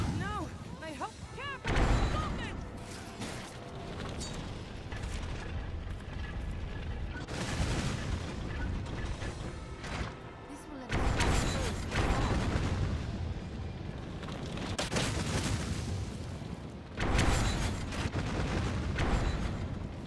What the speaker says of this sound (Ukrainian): оці от вибухи по нас отам відпиляють дві балісти